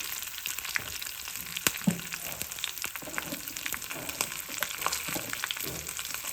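Garlic and curry leaves frying in oil for a chutney, a steady close crackling sizzle with scattered sharp pops and light stirring clicks, no talk.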